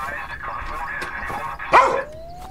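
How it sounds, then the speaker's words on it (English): A single loud dog bark from the video game Thief Simulator 2 rings out over a steady background hum, with a person talking throughout. "That is a loud dog."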